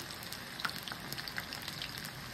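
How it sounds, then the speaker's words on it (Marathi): Chicken 65 pieces deep fry in oil with a soft, steady crackle and scattered small pops, fairly quiet and continuous, no voices. "हे बघा, हे आता तळते मी"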